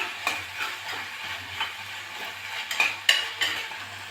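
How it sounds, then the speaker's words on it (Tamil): Crushed ginger and garlic sizzling with tomato in a pan for egg curry, a steady close fry with scattered scrapes and taps of a spoon stirring, and a couple of sharper metal clinks near the end. "நான் கொஞ்சம் இஞ்சியும் ஒரு நாலு பூண்டும் தட்டி வச்சுருக்கேன் அதை போட்டு வணக்கலாம்"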